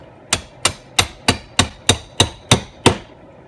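A small finish nail is driven with a nail-setting tool, giving nine sharp, evenly spaced metallic hammer strikes, close and loud, each ringing briefly before the next blow.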